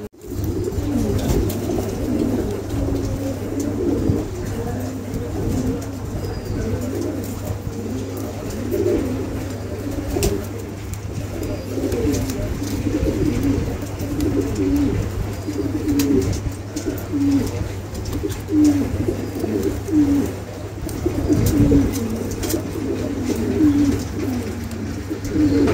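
Pigeons kept for sale give repeated soft, rolling coos, close by and fairly loud, recurring in a loose rhythm over a steady low background hum.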